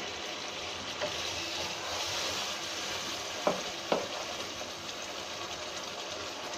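Spices frying in a pan with water-softened potatoes and eggs give a steady, moderate sizzle, with a couple of sharp clicks from a utensil partway through.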